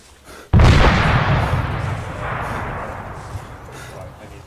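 A sudden heavy artillery blast booms nearby, then a long rolling roar and rumble slowly fades over several seconds, in the video game ArmA 3.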